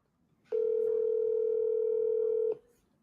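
A telephone tone sounds while calling listings, a single steady pure beep lasting about two seconds, clear and loud over a quiet room.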